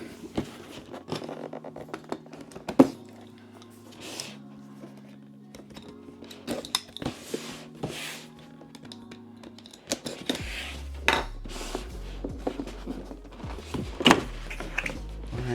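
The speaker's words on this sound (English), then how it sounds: "Y'all, I'm opening it up here." Opening the packaging of a Popmart 400% Sketch Labubu figure, with scattered close rustles, crinkles and clicks of box and wrapping, a low hum underneath and a louder handling burst near the end.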